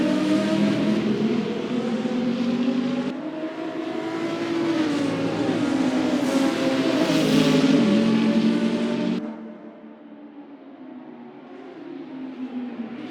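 Race cars at Albert Park roar off at the start of a race. A loud, sustained engine whine rises and shifts, then drops abruptly to a quieter, distant drone.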